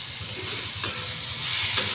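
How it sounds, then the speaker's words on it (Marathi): Green chilli and garlic chutney sautéing in a pan, giving a steady soft sizzle with faint stirring scrapes and a couple of brief clinks. "हिरवी मिरची, लसूण, हिरवी मिरचीची चटणी. असं थोडं परतून घ्यायचं"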